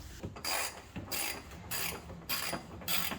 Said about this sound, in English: I like to lock it in place before I put the ratchet on there